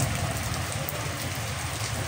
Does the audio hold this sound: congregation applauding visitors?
no